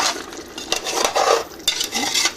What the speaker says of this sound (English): The more we stir,